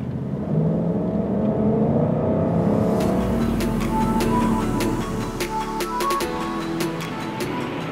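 A tuned Range Rover Sport Supercharged V8 with a flashed ECU accelerates hard, its engine note rising steadily in a loud, continuous sweep with gear changes audible toward the end, no talking.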